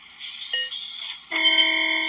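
Among Us Hide n Seek timer alarm going off in the video game, a loud electronic buzzing tone that shifts to a lower, steadier blaring pitch partway through, heard alone.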